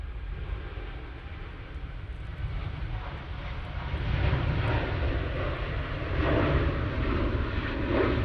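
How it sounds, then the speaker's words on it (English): A Boeing Dreamliner airliner crosses past the tower at Manchester Airport on a windy morning, its engines a distant, steady jet rumble that swells partway through, with no talk. "It's not often you see the Dreamliners do a tower cross like that."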